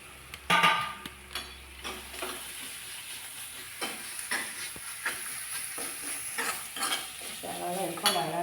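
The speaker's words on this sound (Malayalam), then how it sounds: "ബ്രൗൺ കളറാവുന്ന വരെ വഴറ്റണം." Sliced onion sautéing in a pan for a breakfast curry: a constant soft sizzle under repeated scraping and clanking strokes of a spoon against the pan, close by, with no one speaking.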